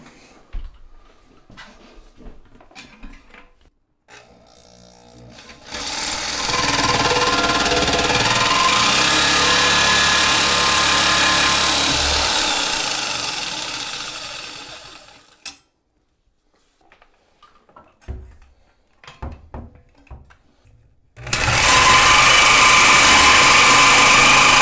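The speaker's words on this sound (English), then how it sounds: "I'm going to have to cut the bolt in half on both sides to get it off." A power tool cuts through a rusted toilet tank bolt, giving two long, loud, harsh grinding bursts with quieter scraping and clicking between and before them.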